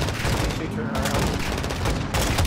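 Light machine gun fire during a Modern Warfare 3 mission, a dense and loud rattle of gunfire that runs almost without pause, layered with other battle noise.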